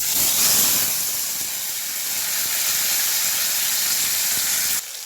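Tomato, onion and green chili hit hot oil with black cumin, giving a steady loud sizzle and hiss that runs the whole time before dropping off suddenly at the end.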